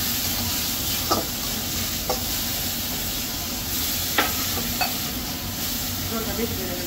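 Fish cooking in a pan with turmeric, a loud steady sizzle and bubbling hiss throughout, with a few brief clinks and scrapes of a spatula.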